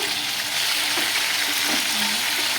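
Cinnamon, cloves and other whole spices fry in a generous pour of oil for mutton biryani, making a steady dense sizzle with small pops and faint stirring.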